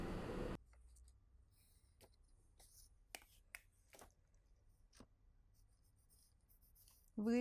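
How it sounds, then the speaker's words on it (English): Faint scratchy pencil strokes drawing the neckline on a paper sewing pattern for a jacket, a few short separate marks, close and quiet with no talking. "Next, I want to draw the neckline."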